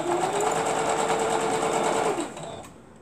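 A sewing machine stitches a yoyo wall hanger in one steady, close whirring run of about two seconds, then stops abruptly, leaving a faint room hush.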